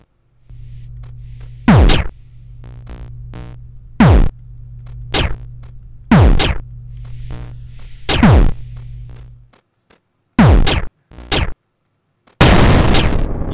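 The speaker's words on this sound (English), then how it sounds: "I killed him and then he blows up and I die too." Repeated loud booms and bursts from enemies exploding in a space shooter video game, roughly every two seconds over a steady low hum, ending in a final noisy blast; no talking.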